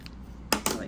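A pair of quick, close snips from scissors cutting a crochet yarn tail, two crisp cuts about a sixth of a second apart over a quiet background.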